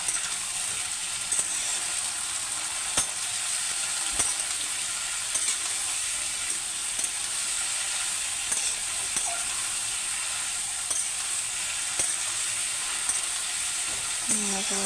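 Pressure-cooked moong dal with turmeric and salt sizzles softly in a pan, a constant frying hiss punctuated by regular taps and scrapes of a stirring spoon.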